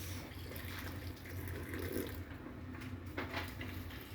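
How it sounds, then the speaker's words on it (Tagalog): Steady running water from a tap, a continuous hiss with a low hum underneath, no voices. "lalagyan na po natin siya ng kaunting tubig"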